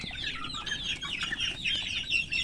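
Free-range village chickens feed on chopped banana stem mixed with herbal tonic, a flock clucking and chirping continuously and busily at close range over a steady background hiss.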